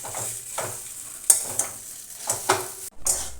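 A spoon scrapes and stirs grated boiled potato into fried rohu fish filling in a pan, a soft sizzle under four or five distinct clacking strokes, close and alone.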